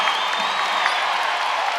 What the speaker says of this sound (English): Crowd coming alive at Gainbridge Fieldhouse.